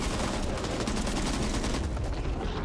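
Dense, continuous gunfire from the Back 4 Blood video game, with rapid overlapping shots forming a loud, sustained barrage throughout.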